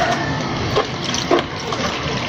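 Tap water runs steadily while aloe vera leaves are rinsed beneath it, a close, continuous splashing wash with a couple of brief louder spatters partway through.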